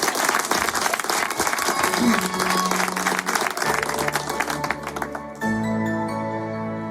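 Loud audience applause and cheering from a studio crowd at a live radio show, dense clapping under music that then gives way to a sustained piano-led song intro near the end.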